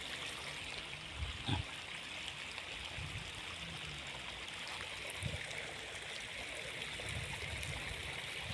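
Water spills over an overflow weir as a steady, fairly faint rushing wash with no breaks, heard from some distance outdoors.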